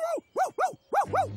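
Cartoon dog Pluto barks five times in quick, bouncy succession, loud and close, with a short gap after the first two.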